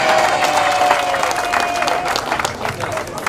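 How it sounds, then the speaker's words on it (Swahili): Steady audience applause and crowd noise at an office grand opening, fairly loud and continuous, with an announcer speaking over it. "Makofi jamani, makofi."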